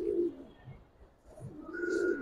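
A Giribaz pigeon gives a soft, low, close coo, then a second longer coo after a brief pause, in a quiet setting.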